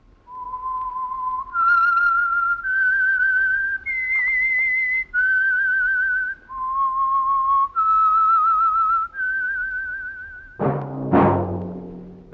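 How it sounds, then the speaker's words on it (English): A lone whistler performs the signature signal tune of the old radio drama The Whistler, a clear melodic line of sustained, sliding notes, close and prominent, ending as a louder sound comes in. "That whistle is your signal for the Signal Oil Program, The Whistler."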